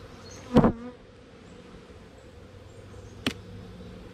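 Honey bees buzzing around hives during a honey harvest, a faint steady drone with two brief louder bursts as insects pass close.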